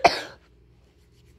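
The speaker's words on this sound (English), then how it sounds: "I have a cough." A single short cough at close range, sharp and fairly loud, followed by near silence.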